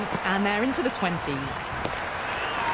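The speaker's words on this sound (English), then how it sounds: "The crowd is electric right now." Crowd applause at a cricket match in the video game Cricket 26, a steady bed of clapping and cheering running under a commentator's voice throughout.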